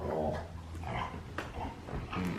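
Dogs growl and whimper indoors in a living room, low rumbling growls with brief whiny yips running through the whole short stretch, fairly close and with no talking over them.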